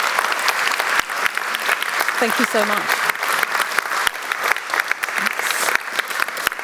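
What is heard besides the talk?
audience applause for guest speakers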